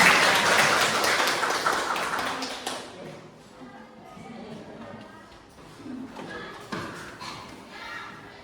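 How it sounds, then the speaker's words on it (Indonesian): A classroom of students claps to welcome a guest science teacher. The applause is fairly loud for about three seconds, then thins into scattered claps and taps with some voices and movement. "Tepuk tangan dong untuk Ibu Fatia."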